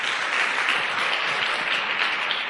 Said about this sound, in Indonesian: Tepuk tangan buat One Vision.